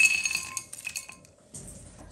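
Dried hawthorn and other dry ingredients tipped into a bowl, giving a quick cluster of light clinks and rattles that thin out and stop, close and fairly quiet.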